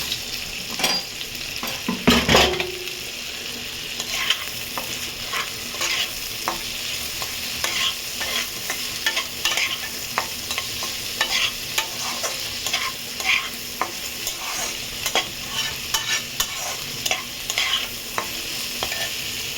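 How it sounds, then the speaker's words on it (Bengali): Shrimp frying in a pan for fried rice, a steady close sizzle broken by the scrape and clatter of repeated stirring, with a louder burst as the shrimp drop in near the start. "চিংড়ি মাছটা দিয়ে দিলাম। দিয়ে দিয়ে এটার সাথে চিংড়ি মাছটাও ভালো করে ভেজে নেব।"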